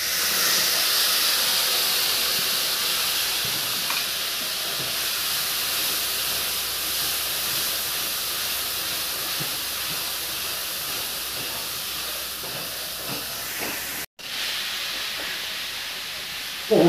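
A ground paste of cumin, coriander, green chili, cloves, cardamom and cinnamon fries in oil, giving a constant, moderately loud hissing sizzle that holds steady throughout, broken by one brief dropout near the end.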